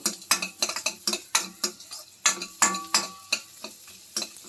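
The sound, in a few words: onions frying in butter for spinach soup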